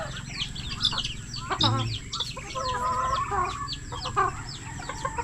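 Several chickens cluck and squawk nearby in a busy, irregular chatter, with a brief voice and outdoor background noise mixed in.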